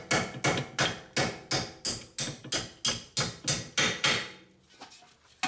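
A hammer taps a part down on Nissan Murano suspension during wheel bearing and drive axle work, a rapid even series of about a dozen close metallic knocks that then stops.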